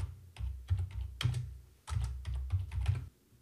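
Keystrokes clatter on a computer keyboard as a page title is typed into a website editor, quick bursts of close, crisp clicks with short pauses between runs.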